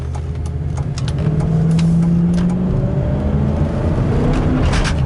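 A 2002 Dodge Ram with a 5.9 engine accelerating hard with a spun wheel, a loud close engine roar whose rising tone climbs through the gears over continuous road and cabin rumble.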